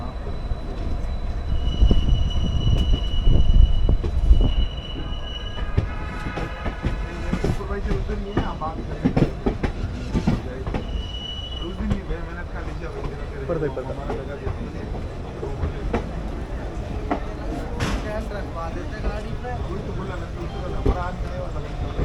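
The 14088 Runicha Express from Jaisalmer rolls into Delhi Junction with a steady low rumble, wheel squeals and rhythmic clicks over the rails, heard from inside the train with voices at times.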